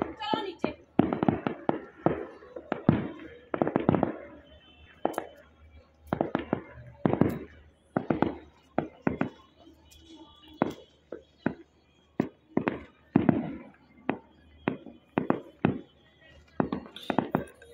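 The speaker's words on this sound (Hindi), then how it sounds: "ये रियाज भाई ने बम फोड़ा।" Firecrackers and fireworks bursting at a small Diwali celebration, a series of sharp pops and bangs at irregular intervals, with voices talking between the blasts.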